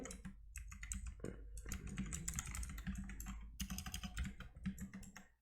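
A password typed on a computer keyboard, with close, quiet, rapid key clicks in an irregular run and brief gaps, no speech.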